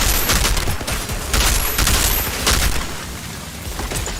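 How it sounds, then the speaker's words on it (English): Rapid bursts of explosive gunfire and booming blasts from an enemy's mortar ability in the shooter game Outriders, a dense, loud barrage of repeated impacts with no speech. "Oh, one of them has the mortar ability."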